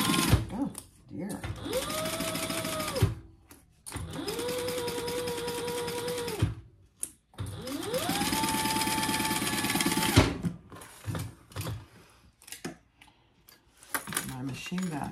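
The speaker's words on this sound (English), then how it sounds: "And I'm gonna sew it from the front so I can see my previous stitching" A domestic sewing machine stitches a handbag in long whirring bursts at a steady pitch, broken by brief pauses and clicks, close up, with someone speaking between runs.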